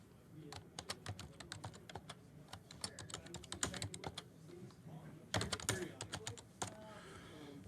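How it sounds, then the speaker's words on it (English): Names being entered on a computer keyboard: quick, uneven bursts of close key clicks with brief pauses and a few louder clusters, heard alone in a quiet room. "Let me bring in my trusty keyboard here. We'll get these names put in."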